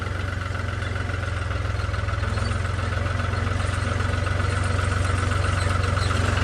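A tractor pulling a loaded trailer runs with a steady, loud, low diesel throb, its rhythmic chug holding even and close throughout.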